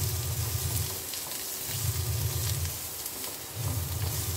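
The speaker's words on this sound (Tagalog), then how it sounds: "ginisa-gisa ko yung bawang hanggang lumabas yung aroma ng bawang. And then, sibuyas na po." Garlic and onion sautéing in a pan for a carbonara sauce, a steady close sizzle with soft stirring scrapes, swelling and easing in short waves, with no talk.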